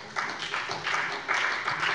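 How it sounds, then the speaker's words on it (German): Lawyers applaud during a Hessian parliament plenary session, a steady patter of many hands clapping at once that swells slightly partway through and holds at a moderate level. "Wenn jetzt Juristen klatschen"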